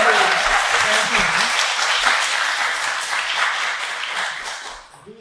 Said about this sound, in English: so please keep applauding for everybody